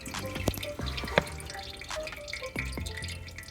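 Coolant drains from a Toyota Celica S-FE radiator, with irregular drips and small splashes landing one after another into liquid at close range, fairly quiet.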